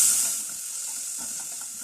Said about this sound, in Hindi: इस प्याज को इसमें सौटे कर देंगे।